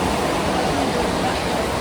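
Water pours down from the mountains in a waterfall near McLeodganj, Himachal Pradesh, making a constant, even roar of rushing water with no break.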